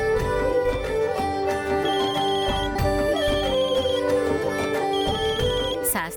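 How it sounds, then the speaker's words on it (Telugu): A phone ringtone plays for an incoming call, a loud melodic electronic tune with repeating chimed phrases running continuously throughout, alone with no talk over it. "శాస్త్రి గారు ఫోన్ చేస్తున్నారు"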